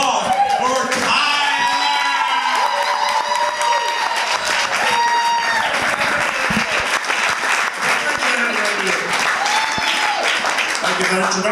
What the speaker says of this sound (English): A big round of applause for Tyler.